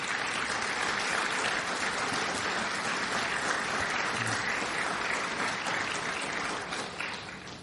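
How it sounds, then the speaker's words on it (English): An audience at a law-signing event applauds a family in a loud, continuous burst of clapping that holds steady for several seconds before thinning out at the end. "let's give them a round of applause today"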